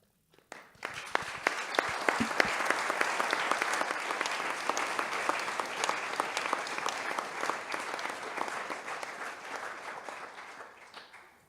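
An audience at a literature congress panel applauds the readers with dense, steady clapping that swells quickly, holds for about ten seconds, and fades at the end.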